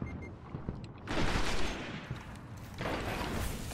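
Rifle fire in a first-person shooter video game crackles in two rapid bursts, close and sharp, with a short lull between them.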